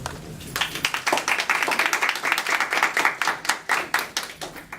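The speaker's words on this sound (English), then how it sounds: "So I'll give you some round of applause." A graduation audience applauds the graduates of a volunteer-to-work program, a steady crowd of hand claps with sharp individual slaps standing out, fairly close and sustained throughout before easing slightly at the end.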